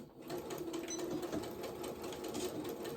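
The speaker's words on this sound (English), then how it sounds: "let me sew this around" A sewing machine runs steadily, stitching a quarter-inch seam around a fabric apron, its fast even whir of needle strokes close and continuous with no talking.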